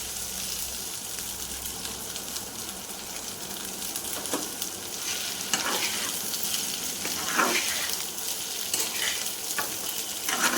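Already-fried vegetables go into a hot pan and sizzle loudly and steadily up close, a dense crackling hiss with occasional stirring clatter and no voices.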